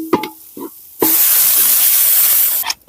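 Water poured into a pan of frying marinated chicken sets off a sudden loud, sustained sizzle and hiss of steam, preceded by a few short clinks and taps and ending with another clank.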